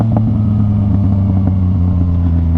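Yamaha MT-09 motorcycle engine in A mode with the throttle opened from about 3,000 RPM in first gear, giving a loud, steady, close-up growl with strong low harmonics that holds throughout.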